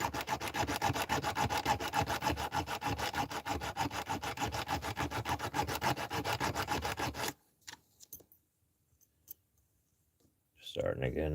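A diamond wire saw rasps rapidly back and forth through a metal lock body in a close, loud, even rhythm for about seven seconds, then stops, leaving near silence with a few faint clicks before a voice starts.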